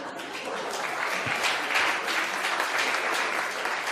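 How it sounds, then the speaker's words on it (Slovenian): A studio audience at a Slovenian television talk show breaks into steady, dense applause that stays loud and even throughout, with no voices above it. "prosim za velik aplavz"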